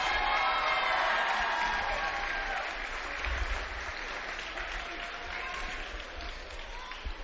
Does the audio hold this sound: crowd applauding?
yes